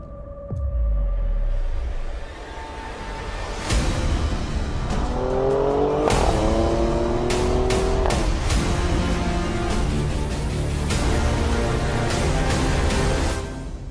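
An Alfa Romeo Stelvio drives along an Alpine pass road, its engine note rising and falling through steady acceleration with a climbing, revving pitch mid-way, loud and continuous with no talk.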